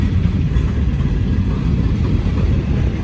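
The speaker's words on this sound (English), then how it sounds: "there's finally an end to the train" A long freight train rolls steadily past up close, a continuous loud rumble with rail clatter and no pauses.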